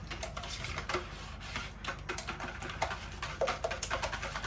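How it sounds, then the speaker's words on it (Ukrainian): Eggs being combined with a whisk for a cheese roll, heard as a rapid, irregular patter of clicks and light taps against a bowl, fairly close and steady without talk. "І також вінчиком все поєднаю."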